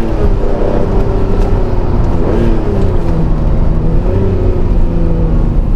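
Ferrari Testarossa engine running steadily while driving, a loud, close, continuous low rumble with shifting harmonic tones as revs rise and fall, with no talking over it.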